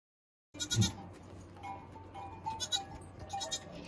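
Newborn goat kid bleating during a goat birth: a few short, thin bleats come up close and fairly clear after a second of silence, with quieter bleats and faint background sounds following.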